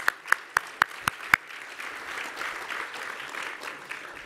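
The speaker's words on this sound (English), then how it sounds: "Angela, round of applause." Audience applause at a chamber of commerce awards event, opening with several sharp, separate claps close by that swell into a steady wash of clapping from a crowd.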